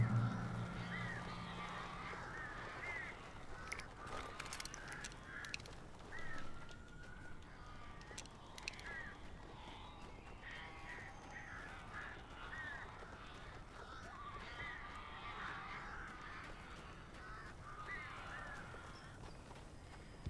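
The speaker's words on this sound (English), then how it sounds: "Look at all those birds." Crows or similar birds caw and flutter throughout a spooky interior scene in the Alan Wake video game, layered over steady ambient game sound with no speech.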